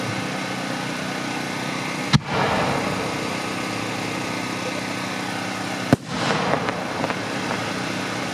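A Sunny Gold Tree Survivor firework fires twice, each a sharp, loud bang followed by a crackling, hissing tail over a steady engine-like hum outdoors.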